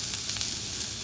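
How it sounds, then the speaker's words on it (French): Cod fillet frying skin side down in a hot pan gives a steady, close sizzle with fine crackling throughout, with no talk. "ça va être le côté peau qui va cuire et qui sera en dessous"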